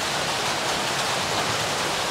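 Steady, loud rain hisses without a break, a dense broadband wash on a farm, with no voices.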